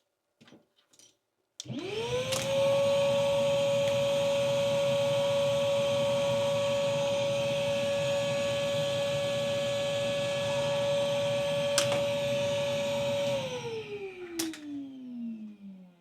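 A DIY workshop dust extraction system runs poorly, starting with a sudden loud steady whine and roar that holds for about twelve seconds before winding down in a falling tone.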